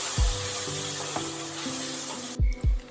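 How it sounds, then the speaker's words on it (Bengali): Grated tomato sizzles loudly in hot oil in a pan, a continuous close hiss with the scrape of stirring running through it, and a sharper crackle near the end, with no talk. "টমেটোটা ভালোভাবে তেলের মধ্যে নাড়াচাড়া করে নিয়ে দিয়ে দিতে হবে"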